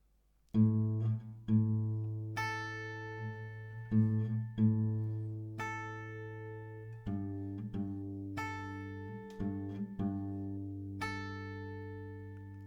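Acoustic guitar chords are strummed slowly, each strum ringing out clearly before the next, with a few lighter strokes between.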